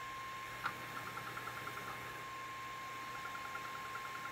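A steady high electronic whine from an Allen Bradley servo motor with its encoder cap off runs throughout, with a faint ticking that pulses rhythmically over a low hum; quiet, close machinery sound with no talking.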